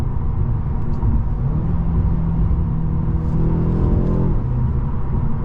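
A Mercedes CLA 250 accelerates on the road, its engine note rising steadily as revs climb over a continuous road rumble. The sound is close and even throughout, with no talking.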